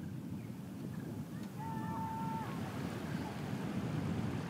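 Sea surf washes against an eroding shoreline on a low island off the Senegal coast, a continuous, moderately faint rush of waves and wind with a brief tonal sound in the middle.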